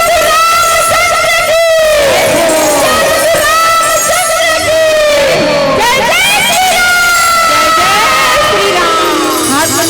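Women at a Ramcharitmanas singing gathering in a village hall shout a loud devotional jaikara chant together, sustained rising and falling voices with music and a leader's voice mixed in, close and dense.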